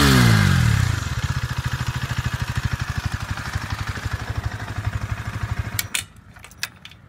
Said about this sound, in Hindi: अब मैं थोड़ी सी रेंज देता हूँ और फिर सुनिए एग्जॉस्ट की साउंड।